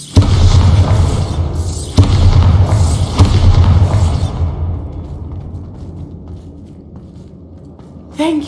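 A Bombarda spell detonating in Hogwarts Legacy, a heavy booming blast with rumbling low end that dies away into near quiet, followed by a brief sound at the end.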